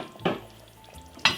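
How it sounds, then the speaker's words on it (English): A pot of Jamaican curry goat is stirred, with two distinct scraping clinks of a spoon against the pot, close and moderately loud, over a faint background sizzle. "Give it a stir."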